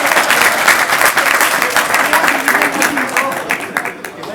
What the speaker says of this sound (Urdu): اپنے لیے تالیاں